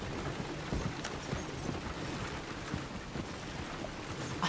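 Horse hooves clip-clop at a steady trot in Red Dead Redemption 2, a continuous rhythmic patter of moderate loudness over dull rumbling ambience, with no voices.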